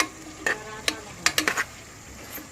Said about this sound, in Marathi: मस्तपैकी मिक्स किती चांगल्यापैकी मिक्स होत आहे